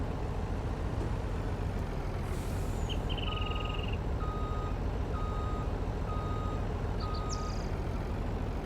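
A truck's reversing alarm beeps in a steady evenly spaced series while backing up a trailer in Farm Sim 19, over a low idling engine rumble with a few brief higher chirps.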